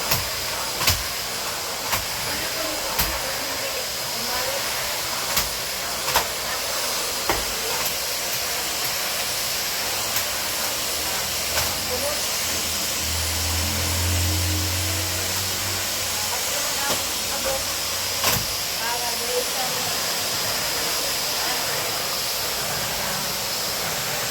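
A vacuum cleaner runs steadily through a household cleaning session in a home in Busan, Korea, a broad continuous hiss with a low hum and scattered clicks and knocks over it, with faint voices at times.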